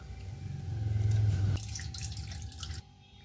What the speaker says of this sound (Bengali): আমি এইভাবে ততক্ষণই ধুতে থাকবো যতক্ষণ আমার জলটা একদম সাদা না বেরোয়